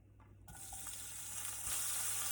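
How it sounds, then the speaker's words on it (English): Drained jackfruit sizzles steadily in hot oil in a skillet, a soft constant crackle that grows a little louder partway through. "we're just going to saute that for a few minutes in the oil"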